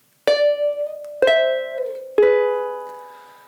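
Jazz ukulele strumming three-note triad chords: three bright, ringing chord strums about a second apart, each sustaining and decaying, played alone and close.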